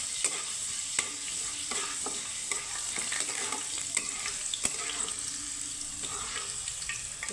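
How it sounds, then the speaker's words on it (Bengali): Raw chickpeas frying in a pan, a low constant sizzle broken by frequent sharp scrapes and clicks of a spoon stirring them, close but quiet, in irregular strokes; no voices. "তো কাঁচা ছোলাটা সুন্দর করে একটু ভেজে নেব"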